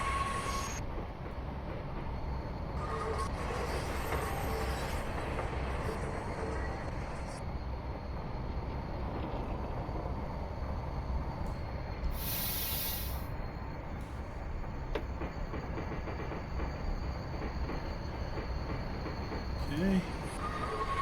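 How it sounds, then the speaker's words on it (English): A train in Train Simulator Classic pulls onto its tracks on The Meteor route, a continuous heavy rolling rumble with a brief sharp hiss or squeal partway through. "This is the key train we've been following all this time. Pulling onto their tracks."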